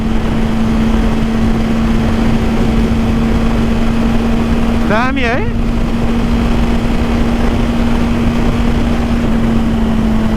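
A Suzuki GSR600 superbike cruises at about 120–130 on an open road, a loud steady engine drone with wind rush, and a brief voice cuts in partway through.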